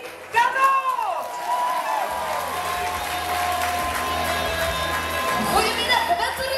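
Audience applause in a crowd greeting a singer as she takes the stage at a Wettere event, steady clapping and cheering that swells and holds with voices chattering.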